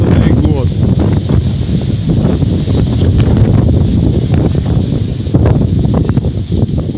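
Strong gusting wind buffets the microphone near dugouts in the Luhansk region, a steady loud roar with rustling and flapping throughout.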